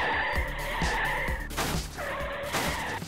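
A cartoon car turns around with its tires skidding, giving long screeching squeals in two bursts over a steady engine drone, loud and close.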